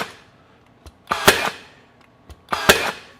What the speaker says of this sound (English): we'll just shoot a couple in here